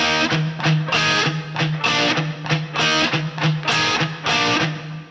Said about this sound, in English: you're going to play these little chord stabs and then always 2 palm mutes on the root note